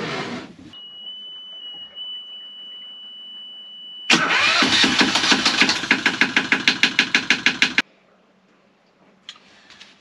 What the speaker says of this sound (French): je vais mettre le moteur en route